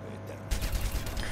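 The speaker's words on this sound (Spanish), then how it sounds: "Luego tendríamos el disparo principal, que lo tenemos aquí" Soldier 76's primary fire in the Overwatch video game, a rapid burst of automatic gunshots starting partway in and running continuously to the end, loud and close.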